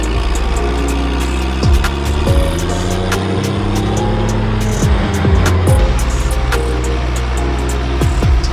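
A tractor ploughing land drones steadily nearby, its engine giving a loud, continuous mid-pitched rumble with shifting tones and occasional clanking knocks from the field work.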